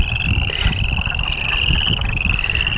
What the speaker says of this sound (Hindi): लगता मेंढक ही है इतने सारे, जैसे इनकी आवाज़ें आ रही हैं, ढेर सारे मेंढक होंगे।